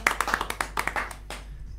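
Audience applause for an Argentine hip hop legend at an interview event: a short burst of scattered clapping from a small crowd, close and fairly light, fading out after about a second and a half.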